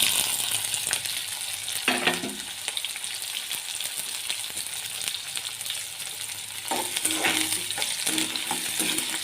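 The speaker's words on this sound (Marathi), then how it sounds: "छान परतून घेऊया कांदा परतवून झालेला आहे" Onion fries in a hot pan for a Marathi leafy-vegetable dish, a continuous sizzle broken by bursts of spatula scraping and stirring, close and clear with no talk.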